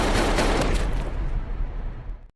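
Gunfire erupts in a film scene as an attacker bursts into a room shooting, a loud, dense burst of shots blending into a continuous roar before cutting off abruptly.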